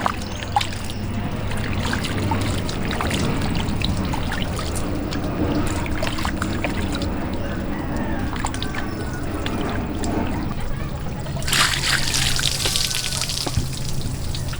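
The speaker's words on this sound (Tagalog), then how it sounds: "Nugasan ng mainit na tubig." Hot water poured to rinse the inside of a whole lechon pig during outdoor Cebu-style cooking, heard as a steady close trickling and splashing that runs throughout, with a brighter hissing gush near the end.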